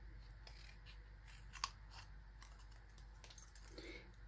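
Scissors snip through folded card stock while birthday cards are trimmed, a few faint, quick cuts and one sharp metallic click, very quiet and close against low background hum.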